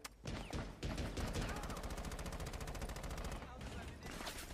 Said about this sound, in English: I heard a lot of bullets and not a lot of killing